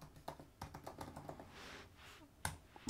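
Keys clack in a quick, light run on a computer keyboard while a folder name is typed, followed by a short pause and one sharper final keystroke, close and fairly quiet.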